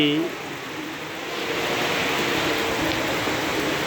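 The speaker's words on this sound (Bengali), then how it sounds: "বৃষ্টি এসে পড়েছে" Rain falling outdoors near a shrine, a steady broadband hiss that grows slightly heavier, with a voice briefly at the start.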